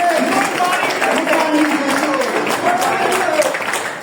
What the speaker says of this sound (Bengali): সকলে করতালি দিয়ে সংবর্ধনা জানাবো।